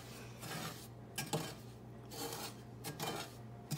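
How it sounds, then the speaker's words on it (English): A spoon scrapes and clinks against a skillet while stirring brownie batter, repeated rhythmic scraping strokes with light metallic taps, close but fairly quiet. "We gotta mix it all together. Need a spoon."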